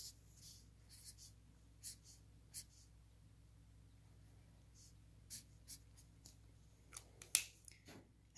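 Faint, scattered scratchy strokes of a highlighter being drawn, short swishes at irregular intervals over a quiet, low hum, with a few quicker strokes near the end.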